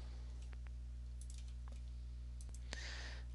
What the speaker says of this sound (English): I'm going to go ahead and type in my cash amount